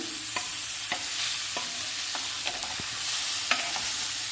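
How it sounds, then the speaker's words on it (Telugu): Coriander seeds, cumin, seasoning seeds and raw lentils frying in a pan with steady sizzling and scattered small pops and stirring scrapes, close and moderately loud, no voices. "ఈ ధనియాలు, జీలకర్ర, తాలింపు గింజలు, పచ్చిపప్పు ఇవన్నీ వేయించుకోవాలి"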